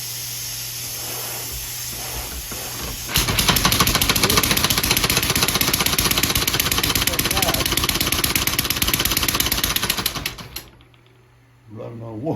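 A homemade air-powered car engine running on just one cylinder hisses and chuffs in a fast, steady rapid-fire rhythm, loud and close, for about seven seconds before cutting off; faint voices are audible before and after.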